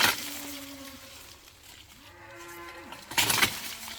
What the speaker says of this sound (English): My cows hear my voice, and when they hear my voice, all they want to do is cry.